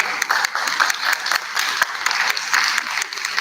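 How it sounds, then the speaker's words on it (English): Audience applause at a panel discussion during a ministry science and technology event, a dense steady clapping from a crowd filling the room, loud and continuous. "we can expect a round of applause for entire panel"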